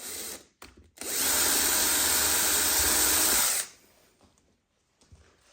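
Power drill with a 2 mm bit boring through a tortoiseshell celluloid pickguard for a Telecaster Thinline guitar, a couple of brief starts then a loud steady whir for about three seconds before stopping.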